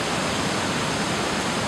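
Rushing floodwater after torrential rains near a dam feeding Longwood Lake in Jefferson Township, New Jersey, heard as a steady, dense broadband roar, loud and continuous with no voices.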